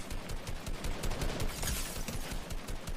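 Dense, rapid gunfire crackles continuously, overlapping bursts like an automatic weapon firefight, loud and sustained throughout with no voices.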